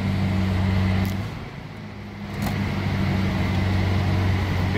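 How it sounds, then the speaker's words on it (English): A 1940 Buick Super Convertible runs at a steady, cold-start idle, a close, low rumbling hum with a brief dip partway through before settling back to an even drone. "I'll turn the ignition straight up and down position, push the pedal, and the car starts."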